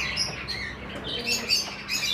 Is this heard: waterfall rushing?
no